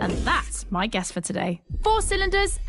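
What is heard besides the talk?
No everyday noises stand out.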